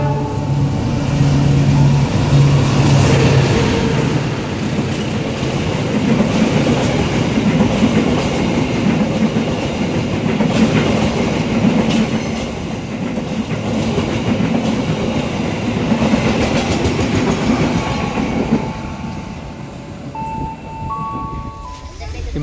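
Commuter train K387A pulling out of Cilame station, a steady loud rumble of rolling wheels with rhythmic rail clatter and hum throughout, while people talk over it.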